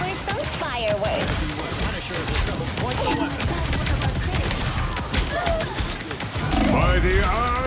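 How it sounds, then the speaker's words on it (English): Rapid bursts of gunfire and crashing impacts in the hero shooter Marvel Rivals, dense and continuous with game music and effects, louder toward the end, while a voice talks over it. "Time for some fireworks."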